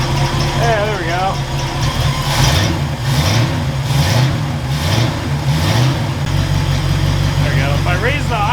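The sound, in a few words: Ford Galaxie engine idling after alternator repair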